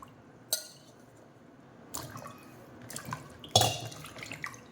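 Ginger pieces drop into a vessel of clean water, making three separate faint splashes and plops spaced a second or more apart in a quiet kitchen.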